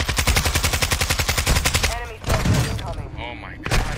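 Call of Duty Warzone gunfire: a fast loud burst of automatic shots in steady rhythm, then excited talking with a few more shots near the end.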